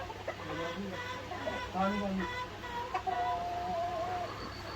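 Hens cluck and chirp on a Tiger chicken farm, with a faint rooster call among them, under low background noise.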